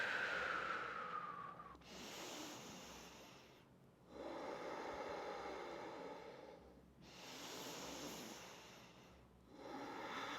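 Slow, audible breaths out during a vinyasa yoga flow, with long airy exhales repeating in an even rhythm, close to the microphone, with no talking over them.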